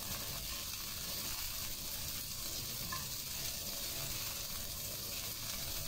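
Yellow croaker fish sizzles in a pan of sautéed aromatics for a Chinese-style braise, giving a soft, steady hiss of frying with no voices.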